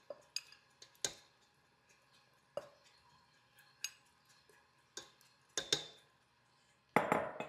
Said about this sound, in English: we're mixing the butter in there, nice and slow